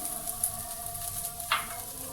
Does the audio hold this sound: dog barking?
no